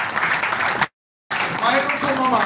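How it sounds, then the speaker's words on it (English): Audience applause for the directors at a Superlife health summit celebration in Nigeria, a dense steady patter of many hands clapping, broken by a short silent gap midway, with voices mixed in. "Please help me clap your hand for the directors"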